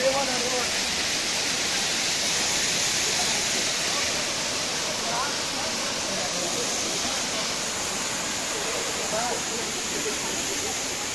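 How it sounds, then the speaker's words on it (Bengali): A waterfall at Ghatshila where people bathe roars loudly and steadily, giving a continuous broad rushing wash of falling water with faint voices buried beneath. "ভীষণ আওয়াজ করে ঝর্ণার জল পড়ছে।"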